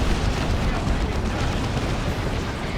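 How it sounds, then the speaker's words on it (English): D-cannons fire in the real-time strategy game Dawn of War 2, a dense, continuous wash of rumbling blasts and explosions with a caster's voice faintly mixed in. "D cannons doing their thing"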